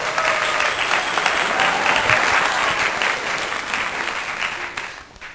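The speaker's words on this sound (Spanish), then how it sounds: "Puede darle palmas al Rey de Reyes" A church congregation applauds for about five seconds, a dense, steady wash of many hands clapping that stays loud throughout, then thins out toward the end.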